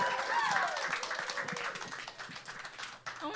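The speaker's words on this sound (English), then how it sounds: "Listen to this crowd go wild with applause." A crowd at a 20th-anniversary VIP party gives dense, sustained applause and clapping as a performer is welcomed to the stage, with cheering voices mixed in and the sound tapering near the end.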